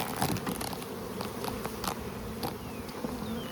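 Honey bees buzzing steadily on a hive frame stocked with honey and pollen, a dense continuous drone close by with no talking.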